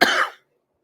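A single short, sharp cough from an adult with a lingering cough, close to the mic, followed by silence.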